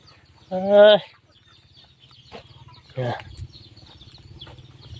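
A chicken lets out a loud, drawn-out squawk, followed a couple of seconds later by a shorter cluck, over a steady low rumble.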